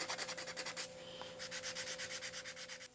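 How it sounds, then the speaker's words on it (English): Sandpaper rubs cured UV resin on a balsa fishing lure in quick, rhythmic strokes. The scratching is close and fairly quiet and pauses briefly after a second of steady back-and-forth. "it's just a matter of sanding this stuff back nice and smooth again"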